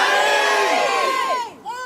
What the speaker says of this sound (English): A crowd gathered at the abandoned house on Miami and Wilmot, chanting the name of a girl who will never be forgotten.